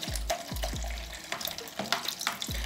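Running cold tap water splashing in short bursts as hairbrushes are rinsed under it, with sputtering, uneven flow close by.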